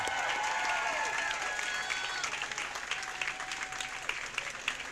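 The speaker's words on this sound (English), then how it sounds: "Let's give him a round of applause." A commencement crowd at Santa Fe Prep breaks into sustained, dense applause, a continuous wash of many hands clapping with a few whistle-like tones and cheers rising early on.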